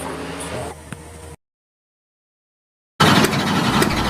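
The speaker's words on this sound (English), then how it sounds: "Somebody starting up your truck, man." A truck engine cranks and catches, settling into a loud, broadband rumble close by after a stretch of silence; earlier, muffled noise precedes the gap.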